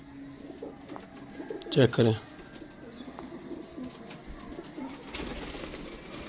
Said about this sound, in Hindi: ये अकेला कबूतर अल्हम्दुलिल्लाह 15-20 हज़ार रुपये का कबूतर है।